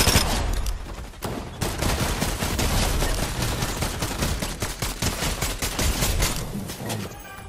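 Dense gunfire in the video game Fortnite: rapid bursts of automatic and repeated shots crackle loudly and continuously for several seconds, with no speech over them.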